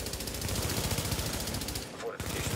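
Dense, continuous machine-gun fire pounding a fortification in a multiplayer war game, rapid shots pulsing without pause and briefly dropping out near the end.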